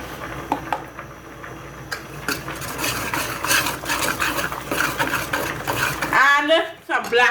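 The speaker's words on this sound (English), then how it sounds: "you're going to mix the cheese and the carrots together with the milk until it starts to melt" A spoon stirs cheese, carrots and milk in a pot, scraping and clinking steadily for several seconds in a kitchen before a person starts talking near the end.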